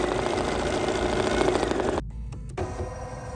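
An embroidery sewing machine stitches the outline of a fabric design, a loud, steady mechanical whir with rapid needle chatter. It cuts out abruptly near the end, then resumes after a short pause.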